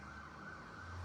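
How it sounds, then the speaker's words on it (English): An emergency vehicle siren wails outside, steady and fairly faint, over a low background hum with no talking. "sorry for the sirens"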